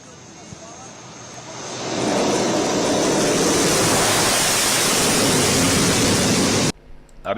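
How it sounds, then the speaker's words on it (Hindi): Air force warplane on a highway airstrip: a broad jet roar rises sharply and holds loud and steady, then cuts off abruptly near the end. "एयर स्ट्रिप में वायुसेनार युद्ध जहाज अवतरण और उड़ाण करथिला।"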